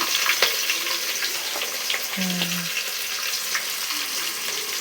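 Hot oil sizzles steadily with light crackling pops from mustard seeds and onions, close and continuous, with a short tonal clink in the middle.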